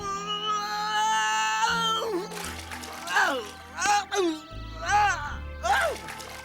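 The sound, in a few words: cat meowing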